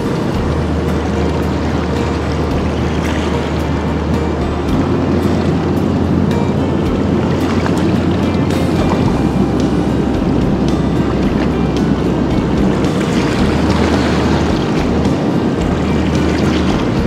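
High water rushes through a flooded river that has covered a small island, a loud, steady roar with wind buffeting the microphone throughout.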